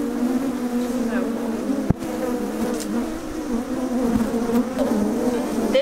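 Honeybees buzzing at an open hive, a dense continuous hum from many insects close by, with a brief knock and faint voices mixed in.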